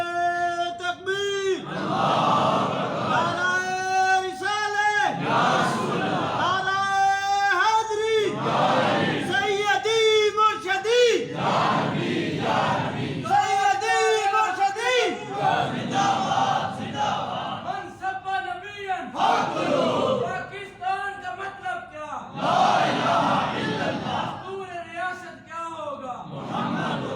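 A crowd at a religious gathering shouts Nara-e-Takbeer slogans in loud, rhythmic call-and-response bursts, a leading voice alternating with massed replies in a reverberant hall.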